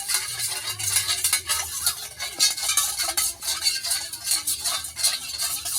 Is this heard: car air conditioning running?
no